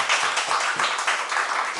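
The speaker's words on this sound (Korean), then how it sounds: "우리 찬양단에게 박수 한번 쳐주십시오." A church congregation applauds its praise team during a Sunday worship service, a dense, steady burst of many hands clapping together with no talk over it.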